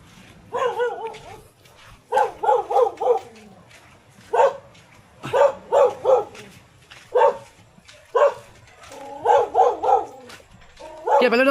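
Dog barking in repeated bursts of two to four sharp, close barks separated by short pauses, with people talking in between.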